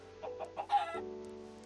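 Minecraft chickens (modded Infinity Evolved pack) give a few short, quiet clucks in quick succession, followed by a lower tonal drone in the game's soundscape.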